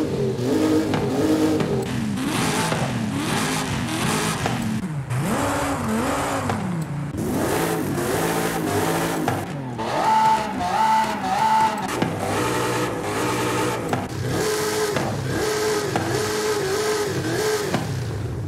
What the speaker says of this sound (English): Let me actually go through all of these and rev them